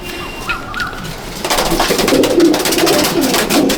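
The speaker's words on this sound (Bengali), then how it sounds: "একটা ফুলশিরা পায়রা" An old Phulshira pigeon, a white Madrasi-line bird, gives a steady run of throaty cooing close by, rising in loudness after a quieter start, against a faint background hiss.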